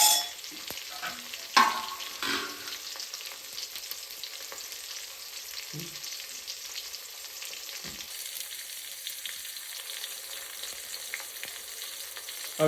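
Sliced onion and green chillies frying in a pan for village-style khichdi, a soft continuous sizzle broken by several sharp stirring clanks near the start, no talking.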